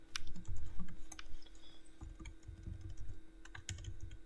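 Computer keyboard typing with scattered mouse clicks during PHP coding, an irregular run of close, soft key taps that pauses briefly and resumes, steady and alone.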